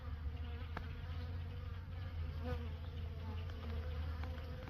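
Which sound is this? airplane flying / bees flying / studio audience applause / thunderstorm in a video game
bees flying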